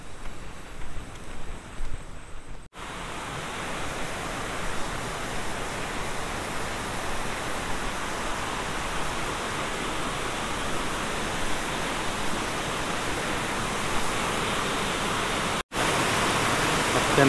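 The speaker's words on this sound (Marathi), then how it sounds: "आता धबधब्याचा आवाज जवळ यायला लागलाय" A small waterfall in a dense Konkan forest gives a constant broadband rush of falling water, steady and fairly soft, heard from a short distance with no voices.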